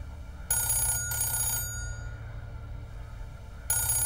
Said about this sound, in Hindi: टेलीफोन बहुत ज्यादा ही बज रहा है ना